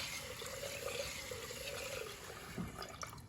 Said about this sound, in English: So you dump out as much water as you can without dumping the rice down the drain.